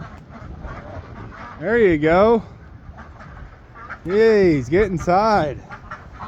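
Ducks quack in loud, wavering bursts at close range as they are herded into their shed for the night on a homestead, with two clusters of calls separated by a pause, while a person speaks over them.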